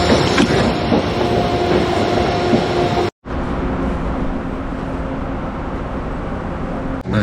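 A passenger train at a station in the USA gives off a loud, continuous rumble and clatter from close by, briefly cutting out before the steady noise resumes.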